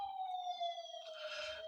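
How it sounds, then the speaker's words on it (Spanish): A real-life fire engine siren sounds faintly in the background, a steady wailing tone drifting slightly in pitch over a brief span, joined by a soft rush of noise toward the end. "Esto no es la sirena que se escucha de fondo no es del vídeo del M113, es de la vida real."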